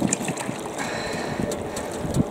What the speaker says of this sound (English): it really is blowy today